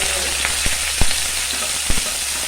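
Steady sizzling of chana dal frying in hot oil, with a few soft clicks of a spoon stirring in the pan.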